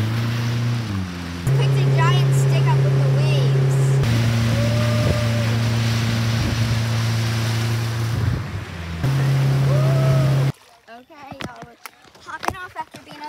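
A motorboat engine drones steadily on a river with strong wind buffeting the microphone, the hum shifting pitch a few times before cutting out near the end, leaving scattered wind and water noise.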